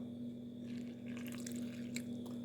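Water trickles and splashes into a bowl of saltfish fritter batter, a soft continuous liquid pour over a steady low hum, close and without talk.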